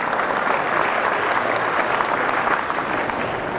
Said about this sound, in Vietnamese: Thế thì xin các chị vỗ tay cùng với các anh ấy